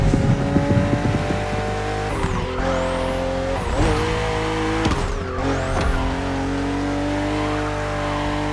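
A BMW M 3.0 CSL races in The Crew Motorfest, its engine revving loudly with rising and falling pitch sweeps through gear changes, with bursts of tire squeal along the way.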